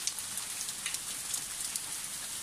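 Steady rain falling and pattering on a surface, a dense, even hiss with scattered sharper drops throughout, no voices.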